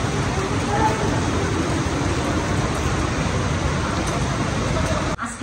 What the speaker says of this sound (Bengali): আর এখন কি বৃষ্টি পড়তেছে।